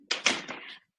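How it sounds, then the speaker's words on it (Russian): A door is pushed shut indoors with a soft thud followed by a short rattling slide as it settles. The sound is brief and moderately close, and no one speaks over it. "закрою дверь."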